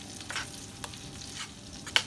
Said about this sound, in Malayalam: ഇനി ഒന്ന് മിക്സ് ചെയ്ത് കൊടുക്കാം